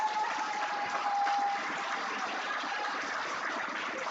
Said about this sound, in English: Now I want you to give those past students a round of applause.